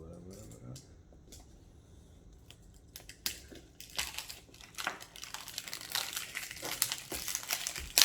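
Cardboard packaging for a Sirui 24mm anamorphic lens being opened by hand, with close crinkling, scraping and crushing noises and sharp clicks that grow denser and louder toward the end, while someone speaks briefly at the start.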